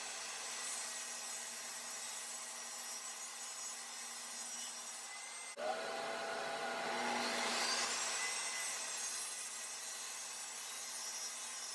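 A table saw cuts the wooden top of a pottery stool to shape, a steady whirring hum that shifts into a louder rasping cut partway through, with the blade running alone and no talk.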